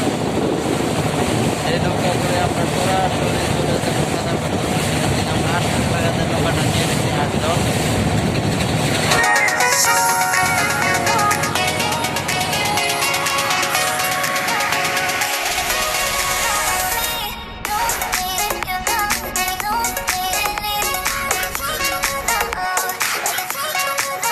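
Wooden boat with an engine running on a river in Bholaganj toward Sada Pathor, a loud continuous engine drone mixed with wind buffeting and water rush, with voices talking at times.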